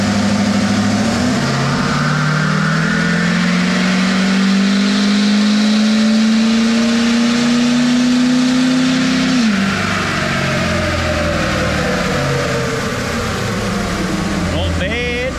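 A tuned Ford F250 pickup roars loud and close on a dyno, its engine note climbing steadily through a long pull before dropping off abruptly, leaving a lower drone after the run.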